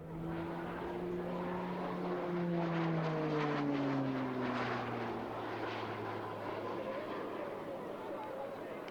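A Slovenian Pilatus PC-9M turboprop trainer passes overhead at an airshow in Varazdin, its engine drone sliding down in pitch as it flies by, loud at first and fading away, with a voice talking over it.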